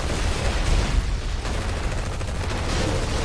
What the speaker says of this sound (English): There we go, we're just lighting them up with our big gun.